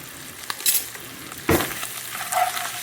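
Chopped celery and onion sizzle in a hot pan, a constant crackle broken by a few sharp stirring bursts.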